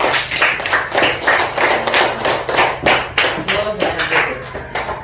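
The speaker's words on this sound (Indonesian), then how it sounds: "Oke, boleh tepuk tangan dulu" Schoolchildren in a primary classroom applaud a classmate, a dense run of quick, sharp hand claps, loud and close, continuing steadily with faint voices underneath.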